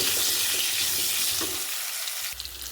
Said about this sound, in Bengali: এবারে ওলকপিটা একটু হালকা করে ভাজবো